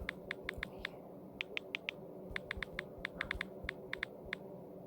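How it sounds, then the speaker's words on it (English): Taps on an Android phone's touchscreen keyboard while a line of text is typed, a quiet, close, irregular run of light clicks with short pauses between groups. "let me just type in a line."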